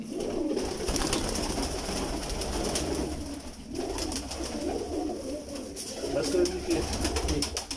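Pigeons coo softly in a steady background murmur, with voices talking over them nearby.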